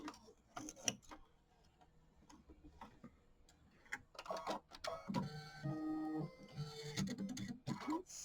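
An embroidery machine stitches the leaf placement line of a Kimberbell mini quilt block in moss green thread, making fast mechanical ticking and whirring at moderate, uneven loudness, with no talking.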